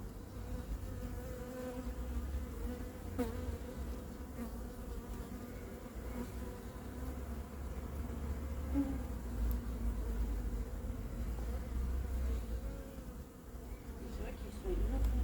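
A swarm of honeybees, recovered outdoors and being shaken into a hive, fills the scene with a dense, steady buzzing hum that stays loud and continuous throughout, with faint voices in the background.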